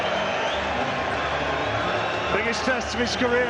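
A boxing arena crowd roars and cheers steadily as heavyweight David Price walks to the ring, with a commentator talking over the din and whistles rising near the end.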